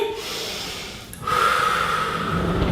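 A single deep breath in through the nose, then a steady breath out, taken close up during a gentle back and pelvis stretch for a pregnant woman with sciatica.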